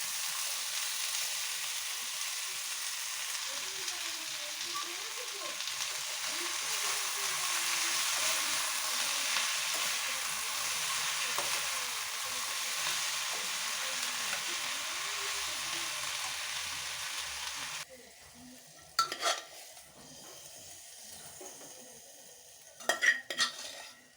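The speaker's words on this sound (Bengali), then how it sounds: "এটা একটু কষিয়ে নিয়ে মশলা দিয়ে তৈরি করে নেবো" Curry with spices sautéing in a pan, a steady broadband sizzle with stirring and utensil scrapes for most of the stretch, then it drops away to a quieter room with a few sharp clinks of cutlery and pots near the end.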